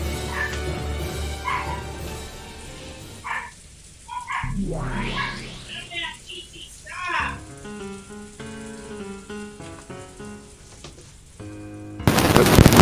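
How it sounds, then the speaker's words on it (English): A dog barks and yips in short bursts amid background music and other sounds, with a whimpering, excitable quality. "You gotta tell your dog to calm down."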